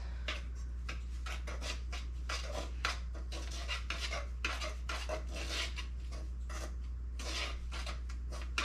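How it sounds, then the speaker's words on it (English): Milk and egg yolks being mixed in a bowl for a chocolate pie filling, a steady run of quick scraping and clinking whisk strokes against the dish, close and continuous with no talk. "Just mixing all this together"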